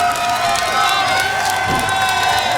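A wrestling crowd at an LPW event roars and cheers for Rose, a loud, steady wall of voices with shouts and whoops rising from it throughout.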